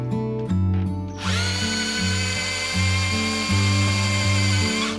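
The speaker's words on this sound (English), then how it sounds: "We're going to drill a hole" A power drill whirs up loudly and close, drilling through fabric into a table, its high whine holding steady while the motor pitch dips and rises as it bites through material.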